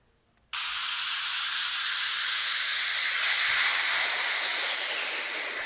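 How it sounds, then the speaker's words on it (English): A noise sweep used as a transition in a bootleg remix of a hip-hop track: a sudden wall of bright, hissing white noise cuts in after a brief quiet moment and holds steady and loud, with a faint downward sweep running through it to the end. "there's some kind of noise effect here doing the transition if I solo these"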